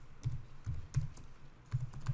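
Soft keystrokes on a computer keyboard while a password is entered, several short clustered taps with small gaps between them, quiet and close with no talking.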